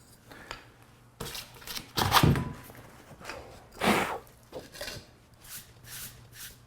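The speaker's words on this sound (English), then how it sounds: "Next, we're going to sand this down. There's some writing on there, and I don't want it." Sandpaper rubbing over a pipe to strip printed writing off its surface, heard as irregular rasping strokes and soft thunks of varying loudness, fairly close, with no talk.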